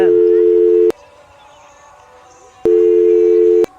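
Two bursts of a steady phone ringback tone, each about a second long and separated by a pause, from a call that goes unanswered; near and clear, with no talking.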